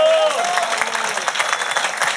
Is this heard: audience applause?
yes